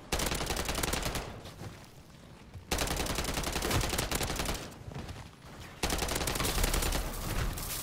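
Automatic weapon fire at zombies in the MW3 Zombies video game, in three loud sustained bursts of rapid shots separated by short pauses.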